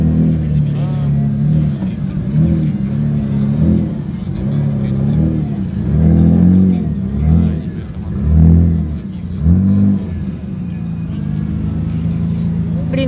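Drift car engine at the Sochi Drift Challenge, revving in repeated surges that rise and fall over a steady rumble, with people talking over it.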